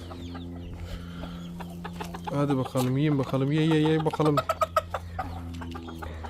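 Chickens and chicks cluck and chirp close by in a bursty flurry, while a person talks and calls to them over a steady low hum.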